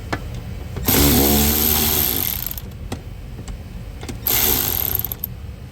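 Ratchet releasing torque bolts on the aluminum dashboard frame of a Range Rover Sport HSE, two bursts of rapid clicking, the first longer and the second shorter, close and fairly loud.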